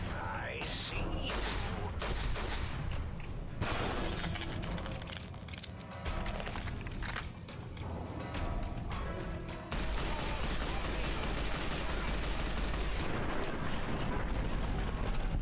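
Rapid video game gunfire from a powerful weapon in Skyward Sword, loud and sustained with dense bursts and booms, layered over game music and effects, with a voice talking over parts of it.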